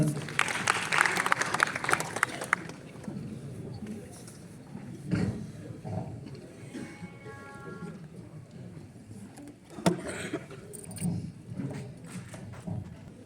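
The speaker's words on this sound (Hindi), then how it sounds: "छह अंक मिलेंगे, तालियां बजाएं जोरदार।" A burst of applause breaks out among students at a school quiz for classes 9 to 12, a short loud clapping spell that fades into quieter room sound and speech.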